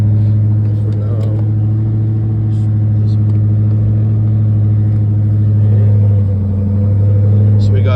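A Dodge Charger Hellcat undergoing a rebuild runs with a deep, steady engine rumble close by, its pitch swelling briefly partway through, with a faint voice in the background.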